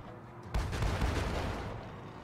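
Front cannon fire from a sailing ship in the naval video game Sailing Era, a sudden loud boom followed by a rumbling barrage that rolls on and fades slowly.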